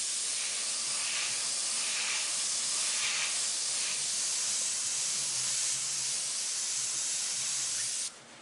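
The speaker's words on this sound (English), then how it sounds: "I'm going to spray a little bit of yellow" Steady airbrush or spray-gun hiss laying yellow paint onto a semi truck mural, a continuous close, loud spray lasting several seconds before cutting off abruptly at the end.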